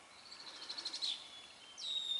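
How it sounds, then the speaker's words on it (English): Birds sing outdoors in a quiet natural setting, a few faint, thin chirps and whistled notes rising and sliding, spaced apart over a soft background hiss. "Listen to the birds."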